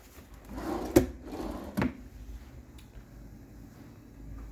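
A drawer in a hotel room in Panama City slides open and shut, giving two short, close wooden knocks about a second apart over a quiet room hum.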